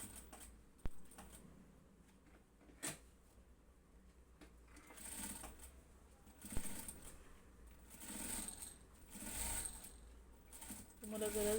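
Sewing machine stitching the inside of a blouse lining, running in several bursts of mechanical whirring with short clicks between, fairly quiet and close.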